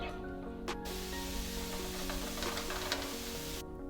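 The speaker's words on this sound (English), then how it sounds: "Stir that around until they're nice and brown" Mushrooms sizzle in a hot pan as they are stirred, making a steady close hiss that dips briefly near the start and cuts off at the end, with no talking.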